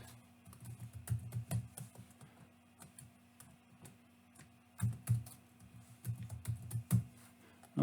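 Password being typed on a computer keyboard, with irregular bursts of soft, close key clicks and short pauses between them, against a faint steady hum.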